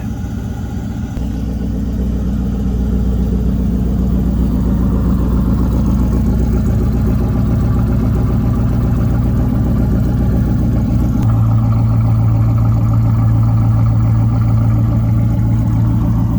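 A 1997 Pontiac Firebird Trans Am's 5.7L V8 with a K&N intake idles steadily nearby, a loud, constant low rumble with a slight shift in pitch partway through.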